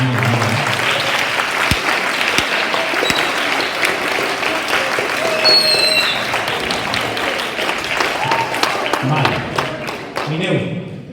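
An audience applauds drum and dolçaina players at a Valencian school recital, sustained loud clapping filling about eleven seconds with scattered voices and whistles through it, tapering off at the end.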